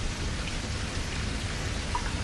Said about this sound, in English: The pitter-patter of light summer rain.